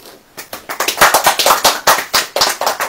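A church congregation claps together during a sermon, producing quick, sharp, evenly spaced claps that swell into a loud, steady rhythmic beat for about three seconds.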